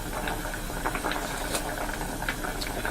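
Korean cucumber stew with minced garlic simmers in a pot, giving a steady close bubbling and crackling with small pops and no talking.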